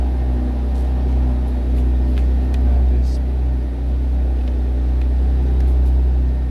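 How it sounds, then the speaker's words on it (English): A low, continuous Porsche engine rumble drones steadily in the background, with faint clicks and a brief spoken phrase over it. "Excuse the noise in the background, noisy Porsche."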